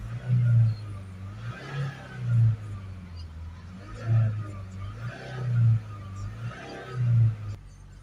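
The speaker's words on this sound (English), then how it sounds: "Give it a few revs to warm it up and it should come down quicker." A diesel car engine is blipped repeatedly to warm it up, six regular revs rising and falling roughly every one and a half seconds over a steady idle, close by.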